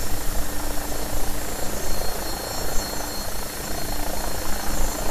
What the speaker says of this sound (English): helicopter is turning for the inbound leg.